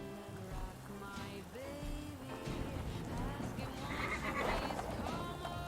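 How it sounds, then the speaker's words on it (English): A video game horse whinnies with a long, quavering neigh, followed by softer snorts over a patter of rain-like background noise. "Is that a horse?"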